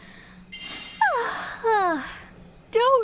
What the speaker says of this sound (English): You're making me yawn, too.